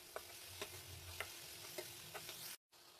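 Curry leaves, salt and turmeric sautéing with onions for an aloo masala: a steady low sizzle with several sharp spoon-scraping clicks spaced through it, then a brief dropout near the end.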